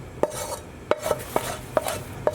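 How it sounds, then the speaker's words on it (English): Beef mince mixed by hand with an onion mixture in a bowl, a series of about six soft, wet squelching and tapping pulses at a steady rhythm, close and fairly quiet. "And what we want to do is just mix this well together."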